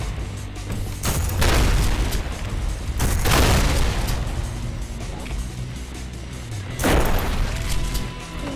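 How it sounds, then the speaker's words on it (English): A point-blank shotgun blast combined with a punch erupts into a huge explosion in the video game Shadow of War: three heavy, rumbling booms with long tails over continuous game noise. "if you punch at the same time you fire a shotgun, it's just a huge explosion."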